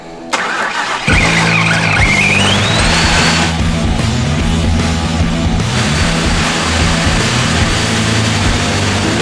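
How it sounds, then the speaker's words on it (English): A chassis-swapped Mustang engine cranking over and firing up with open exhaust dumping straight to the ground, then settling into a loud, rough, pulsing idle that continues close and unbroken. "Right now, we don't have the exhaust tips on, so it's just straight dumping to the ground."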